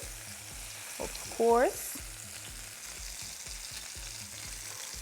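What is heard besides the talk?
chicken searing in a pan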